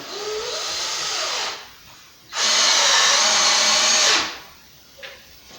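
A power drill or driver runs in two sustained bursts, the second louder and longer, while screws are driven into a concrete header board during framing. A short tap follows at the end.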